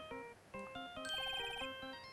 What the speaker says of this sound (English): Oh, I love the Steel Samurai ringtone.